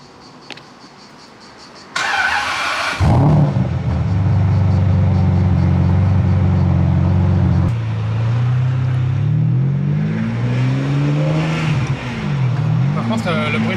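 A Ferrari 550 Maranello engine starts and revs, then pulls away through a village, its loud, close growl echoing off nearby rocks and rising and falling with gear changes.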